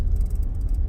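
A car drives on the road, heard from inside: a low, steady engine and road rumble that stays constant through a brief moment, with no talk.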